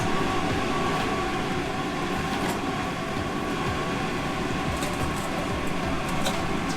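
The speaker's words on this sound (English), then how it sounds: "So now we're gonna turn on the vents." Steady, loud ventilation fans roar throughout in a workshop where silver is being melted, a dense continuous whoosh with faint clicks and no speech.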